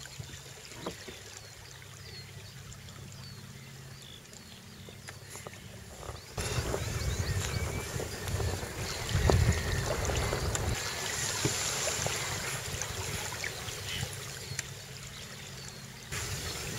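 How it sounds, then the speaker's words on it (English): A 250-pound home-built duck punt sails through salt marshes, with water rushing and slapping along the hull and wind noise, growing louder and busier midway through. "sailing a 250-pound home-built boat through the salt marshes"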